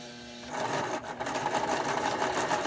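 A sewing machine starts up and runs a fast, steady rattling stitch along a dart line in fabric while making a bowl cozy, close and clear with no talking.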